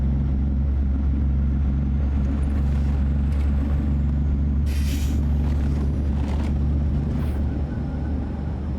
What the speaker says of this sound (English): There's that wind noise.